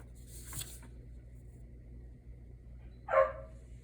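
A dog outdoors barks once to be let back inside, a short, fairly clear yelp near the end after a faint earlier sound, otherwise quiet with a low background hum.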